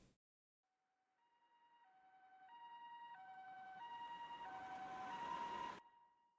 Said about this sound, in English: It's an ambulance's siren.